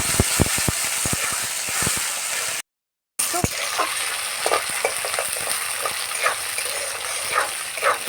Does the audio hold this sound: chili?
yes